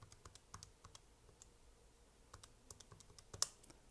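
Fast, irregular clicks of keys on a computer keyboard being typed, soft and close, with a sharper click near the end and no talking.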